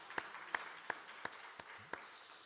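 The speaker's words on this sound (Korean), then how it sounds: "우리 박수로 환영해 주시기 바랍니다." About six sparse, evenly spaced claps sound faintly in a quiet church during a Sunday service, with no crowd joining in.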